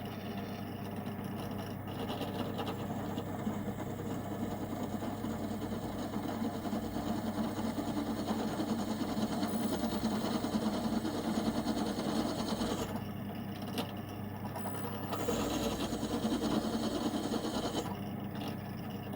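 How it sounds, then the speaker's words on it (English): A drill boring a pilot hole through copper sheet for a copper boiler build, a steady, continuous motor whine held at close range for most of the stretch, with brief dips near the end. "this drill is set such that hopefully I won't get dragged through the hole"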